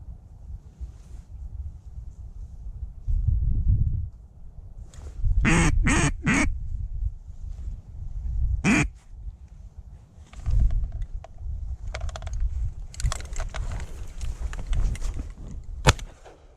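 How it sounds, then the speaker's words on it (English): Wild ducks quack from the reeds during a snowy December waterfowl hunt, with repeated loud calls in bursts between quieter stretches of wind and rustling, and a sharp bang near the end. "Don't know if you heard that, but they're quacking."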